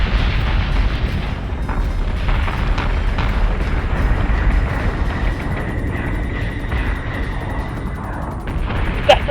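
Ship cannon fire and explosions in the space battle game Battlestar Galactica Deadlock, a dense, continuous rumble of booms with a faint whine through the middle and a sharp burst at the close.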